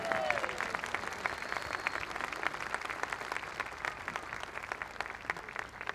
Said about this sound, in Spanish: dele su mejor aplauso al Señor